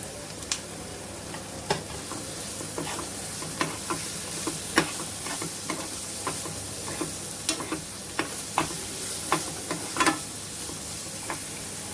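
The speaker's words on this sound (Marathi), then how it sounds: "आता आपण गाजर घालूया याच्यामध्ये" Carrots go into a pan of frying vegetables for spinach veggie noodle frankie, giving a steady sizzle and a run of scraping, clicking stirs at irregular intervals, all close and with no talking.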